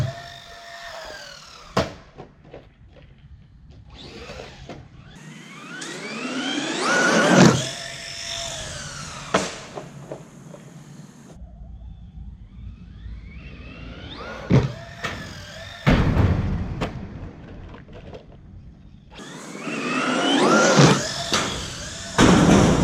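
Traxxas Rustler 4x4 VXL RC truck driven and jumped inside a shop, its electric motor whining up and down in loud bursts with sharp landing thumps, no talking.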